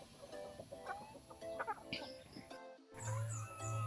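Free-range laying hens, around six to seven months old, cluck and chatter on a farm, with several overlapping short calls over steady background noise and a low hum toward the end.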